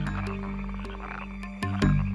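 Leopard frogs croak in a dense chorus, with steady low pulsed calls layered under several sharper, louder croaks that pop up near the close.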